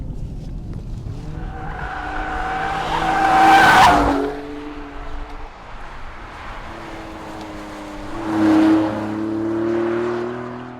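Maserati Grecale Trofeo SUV, a 530 hp sporty SUV, driving with its engine in Sport/Corsa mode: a sustained, loud engine note with two rising surges of acceleration, steady and close throughout with no talk.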